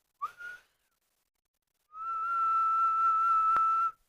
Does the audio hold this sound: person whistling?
yes